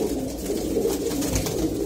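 Low, continuous cooing from Giribaz tumbler pigeons fills a loft, a steady throaty murmur close by with no talk over it.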